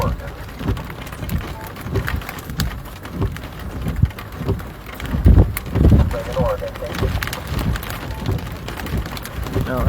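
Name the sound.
very large, very cold rain falling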